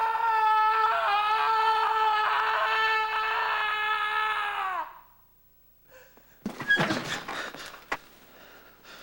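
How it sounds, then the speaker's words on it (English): A person screams in one long, sustained, tonal cry for several seconds, then it stops abruptly, followed by scattered bumps and rustling. "How long have you been screaming?"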